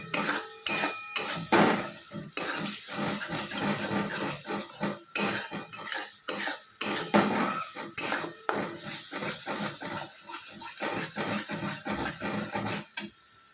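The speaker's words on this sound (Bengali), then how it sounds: "ভালো করে একটু কষিয়ে নেব মশলাটা" Spice paste of green chili and cumin being stirred and fried in a pan, with repeated clattering scrapes of a metal spatula against the pan in an irregular rhythm, close and fairly loud, with no talking.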